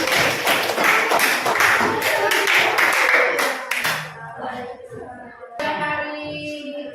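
Students in a classroom clap for a group, a loud, dense round of applause that fades after about four seconds into quieter shuffling and speech.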